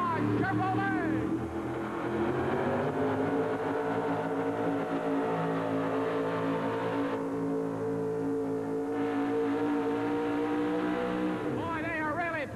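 A Chevrolet pulling truck engine roars steadily at full revs at a dirt-track truck pull, loud and sustained with a slight pitch dip midway, while an announcer talks over it.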